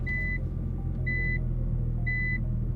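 Reverse warning chime of a Nissan GT-R heard from inside the car: three evenly spaced high beeps about a second apart over a low, steady engine rumble.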